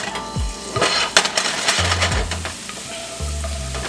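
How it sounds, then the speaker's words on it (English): A tablespoon of garlic sautéing in vegetable oil, loud close sizzling with several scraping strokes of a utensil across the pan. "You don't want to saute the garlic for too long"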